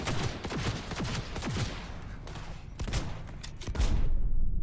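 Rapid bursts of gunfire in the video game Cyberpunk 2077, a loud, dense fusillade of overlapping shots with a brief lull in the middle.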